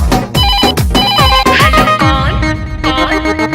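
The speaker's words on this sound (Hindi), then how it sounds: "ऐसा बात है तो लगा ले फिर से फोन" A loud telephone ringtone plays a repeating electronic melody with a steady pulsing beat underneath, close and continuous, set within a Bhojpuri song.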